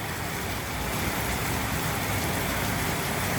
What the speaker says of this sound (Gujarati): આ પતરામાં કેવો અવાજ આવે છે તો.